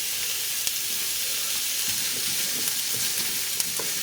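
Diced yellow onion sizzles gently in a pan over low-medium heat, a soft steady hiss with a few light taps and stirring sounds and no voices.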